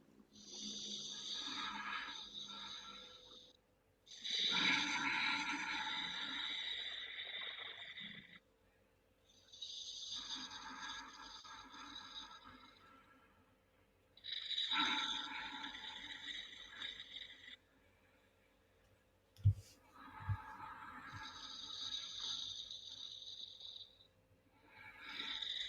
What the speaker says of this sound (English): you're going to exhale with a closed mouth through the back of your throat